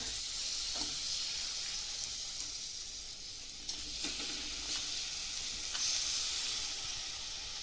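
Jaggery melting in hot ghee in a pan for sesame chikki gives a steady, close sizzle with soft hissing and occasional stirring scrapes, no voices.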